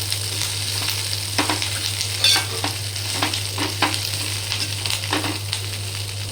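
A curry leaf mixture is stirred while it fries in a pan, a steady close sizzle over a low hum with repeated scraping strokes of a spoon against the metal and no voices.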